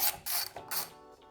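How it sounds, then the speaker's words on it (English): An Allen key loosening bolts on the rear fascia piece of a Yamaha Nytro snowmobile exhaust, a few quick close metallic ratcheting scrapes in short bursts. "go ahead and remove the rear fascia piece off the back of the pipe using an Allen key."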